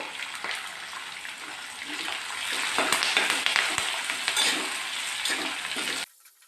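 Sliced onion, green chillies and curry leaves fry in a pan for orange chitranna, making a steady crackling sizzle with stirring scrapes that grows louder midway, then stops abruptly near the end.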